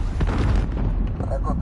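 A grenade exploding in Modern Warfare (2019) Domination gameplay, a short heavy boom with a rumbling tail, with a voice speaking over it.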